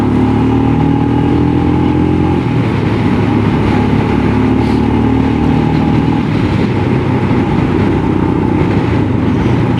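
Motorcycle engine droning steadily while riding, loud and close, with a constant rumbling hum and wind-like roar and a slight shift in pitch partway through, no voices.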